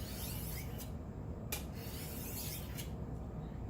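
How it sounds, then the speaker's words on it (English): A kitchen knife being stropped to remove the burr after sharpening, giving a steady close rasping rub with a few brighter scraping strokes, heard alone. "I'm only stropping here because I'm just trying to get rid of that burr."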